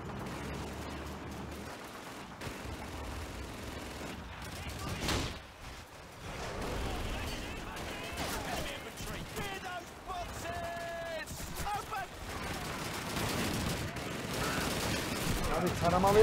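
Machine-gun strafing fire in Call of Duty 2, a World War II shooter, during tank combat: dense, continuous automatic gunfire rattling over a noisy battlefield, with a short lull near the middle before the firing swells again.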